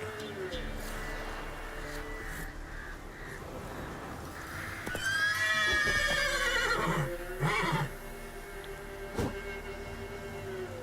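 A horse in The Witcher 3: Wild Hunt gives a loud, shrill whinny midway, preceded by game background sound and followed by brief snorts and hoof-like knocks, with some voice mixed in.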